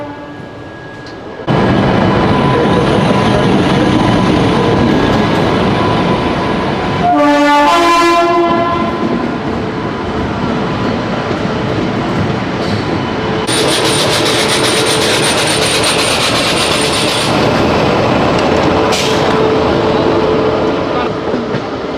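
A Kevadia Jan Shatabdi train with a glass-roofed Vistadome coach rolls on after leaving Vadodara, a loud, steady rumble of wheels and carriage noise broken by a brief horn blast partway through.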